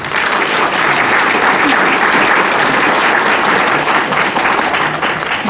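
Loud, sustained audience applause after a lecture on the Battle of Leyte, a dense roar of many clapping hands filling the hall evenly for several seconds without pause.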